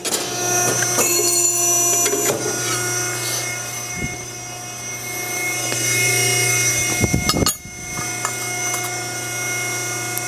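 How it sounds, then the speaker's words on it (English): A JMT 60-ton double-cylinder ironworker's 12-inch flat shear slices a thin strip of metal, with a loud close hydraulic hum and machine drone, then a sharp clunk of the cut near the end. "Okay, I'm gonna demonstrate the flat shear. It's a 12-inch shear."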